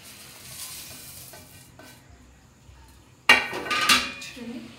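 Soaked rice grains are stirred and mixed in a metal bowl, a quiet scraping at first, then louder clinking and rasping scrapes toward the end.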